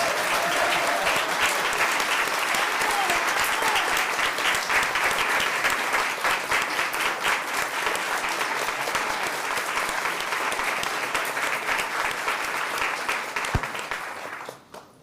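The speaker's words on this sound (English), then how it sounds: "Let's give these students one more round of applause." An audience at a school board of education meeting gives students a long, steady round of applause, dense clapping that holds for most of the stretch before tapering off at the end.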